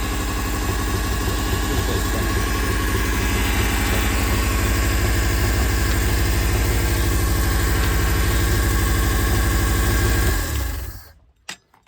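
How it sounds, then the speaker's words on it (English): A rough, worn 1.3 Daihatsu Hijet van engine idles with a steady rattling throb, close and loud, then cuts out abruptly near the end. "That's a running engine, but it is knackered."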